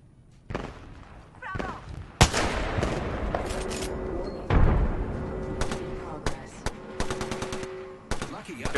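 Rapid automatic gunfire from a Fortnite or Apex Legends match, with sustained bursts and single shots crackling in repeated volleys through the clip, loud and close, alongside game effects.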